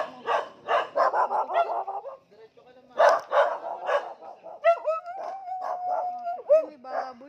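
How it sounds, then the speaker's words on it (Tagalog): Several dogs bark in rapid bursts close by, then a drawn-out howl rises among continued barking and yips. "May aso, guys."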